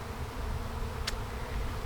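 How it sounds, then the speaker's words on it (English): A honey bee swarm gathers above a hive outdoors, a steady faint buzzing hum with no voices. "Oh no, I actually think my bees are swarming."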